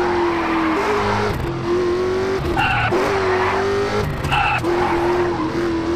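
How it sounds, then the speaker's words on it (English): Car drifting in the GRID racing video game, a loud engine drone with repeated tire squeals and skids that rise and fall through several slides, no talking. "I'm trying to drift in this thing."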